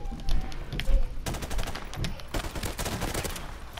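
Rapid automatic gunfire from Modern Warfare Remastered rings out close and loud, starting with a few scattered shots before long, dense sustained bursts with a harsh, crackling edge, no talking.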